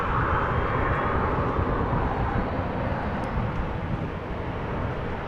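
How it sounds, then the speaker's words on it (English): A KLM Boeing 737-800 lines up for takeoff at Amsterdam Schiphol, producing a sustained jet engine roar with a slight whine, loud at first and easing off gradually, with no one speaking. "we have KLM flight 1513 lining up, ready to go to Barcelona in a moment"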